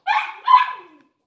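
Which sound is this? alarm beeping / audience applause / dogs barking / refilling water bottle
dogs barking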